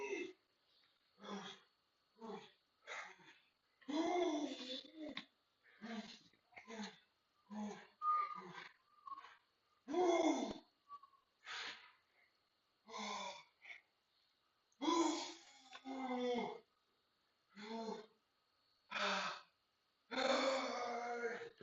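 Heavy, effortful breathing and strained gasps from a person working out in a gym, a long series of loud rhythmic exhales and grunts separated by brief pauses.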